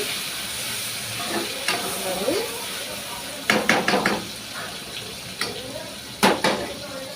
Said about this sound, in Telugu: టమాటా వేసేసుకోవాలి. వేసుకొని కలుపుకోవాలి.